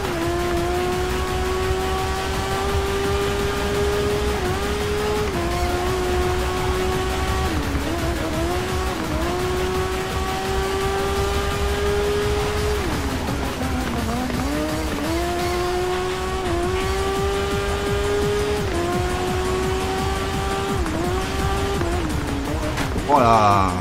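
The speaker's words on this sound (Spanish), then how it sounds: "Sí, luego cogeré otra moto, Rito, que corre más todavía. Estas son 600, luego están las 1000" 600cc racing motorcycles in the TT Isle of Man racing video game, a loud high-revving engine wail rising and dropping through repeated gear shifts, continuous and close.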